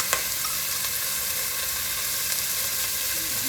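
Homemade minced garlic sizzling in a hot frying pan for shrimp rice, a steady loud hiss of frying oil with no pauses.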